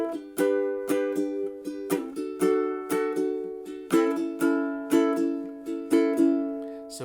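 Ukulele strumming chords for a song in a quick down-down-up-down-up pattern, bright repeated strums with crisp attacks, played alone and close.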